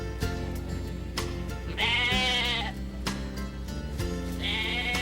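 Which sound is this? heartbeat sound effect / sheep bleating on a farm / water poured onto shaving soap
sheep bleating on a farm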